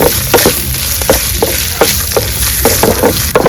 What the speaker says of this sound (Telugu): కొబ్బరి బాగా బ్రౌన్ కలర్ వచ్చే వరకు కొబ్బరి వేయించుకున్నామండి